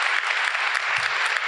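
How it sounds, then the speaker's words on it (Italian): A bookshop audience gives a brief burst of even, continuous clapping for a local bookseller, sustained at moderate loudness with no voices over it. "Facciamo un applauso a Sara"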